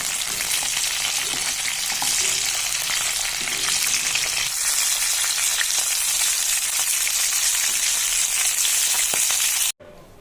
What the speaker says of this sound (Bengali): মাছের মাথাটা প্রায় ভাজা হয়ে এসেছে